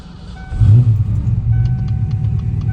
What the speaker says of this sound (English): Car started.